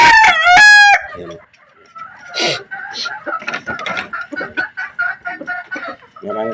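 Caged chickens in a Philippine backyard, led by a loud close rooster crow at the start, followed by a busy stretch of clucking and squawking from several birds.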